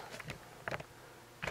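A few flies buzz in short, faint bursts close by, with quiet gaps between them in an otherwise still room.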